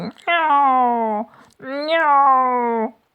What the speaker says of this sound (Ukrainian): Крізь тонке бляшане покриття виразно чулося, як рудий кочака сердито нявкотить.